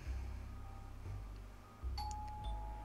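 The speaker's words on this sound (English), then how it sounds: "With a gulp, I gingerly press the doorbell beside the solid oaken door" A doorbell beside a solid oak door gives a clear chime, with a bright ringing tone sounding near the end over a low, rumbling background.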